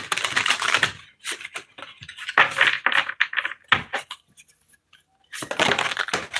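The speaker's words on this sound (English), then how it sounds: "I'm going to do a little bit of a ruffle shuffle, so it might get loud for a second." Playing cards are riffle shuffled in several quick, crisp bursts of fluttering clicks, separated by short pauses, close and fairly loud.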